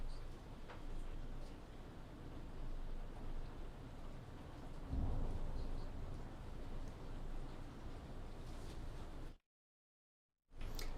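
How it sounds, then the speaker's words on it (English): A thunderstorm with lightning and heavy rain: a steady wash of rain throughout, a low thunder rumble swelling around the middle, and a brief total dropout near the end. "Now we have a lot of lightning, thunder, rainstorms here"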